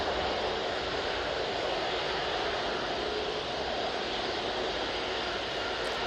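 Ryanair jet airliner departing Manchester Airport for Genoa, a steady broadband engine rumble at moderate distance, even in level from start to finish, with no one speaking.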